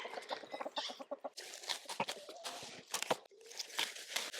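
Chickens cluck and squawk close by in quick bursts, mixed with scratchy pecking and rustling sounds.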